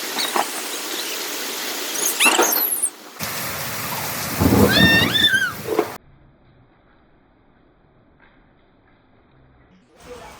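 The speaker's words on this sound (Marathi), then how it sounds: "आता हे असा पाऊस चालू आहे मस्त बारीक" Light, fine rain falls outdoors as a steady soft hiss for about six seconds, with a few brief high chirps over it, then fades to near silence.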